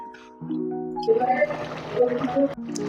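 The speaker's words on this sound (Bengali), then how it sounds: "এবার একটু জল দিয়ে হালকা একটু নেড়ে দেবো।" Water is poured into a jackfruit and prawn curry and stirred, making a close splashing, gurgling pour with liquid bubbling and sloshing, then a brief quieter moment at the end.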